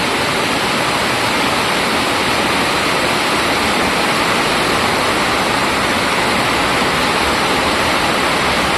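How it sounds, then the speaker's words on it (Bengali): Heavy rain pours onto a flooded rooftop terrace garden, a dense, steady roar of falling water that stays loud and unbroken throughout, with no voices. "দেখো কি হারে বৃষ্টি হচ্ছে"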